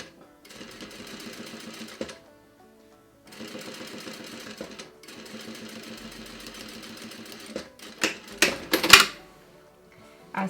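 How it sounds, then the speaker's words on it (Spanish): A sewing machine runs in three steady bursts of rapid stitching, sewing a straight line along a boning channel in a corset bodice, followed by scattered clicks and handling noises. "ahí sí le pasamos un pespunte, cuidando de que nos quede derechito"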